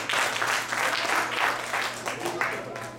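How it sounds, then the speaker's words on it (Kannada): A Kannada association audience at the Hemantha Gaana 2013 event gives applause, a dense, sustained clapping at moderate distance that pulses gently and then fades slightly, with a faint low hum beneath. "ಅದನ್ನು ಕೂಡ ಅವ್ರಿಗೊಂದು ಚಪ್ಪಾಳೆ ಹಾಕಿದ್ದೇವೆ"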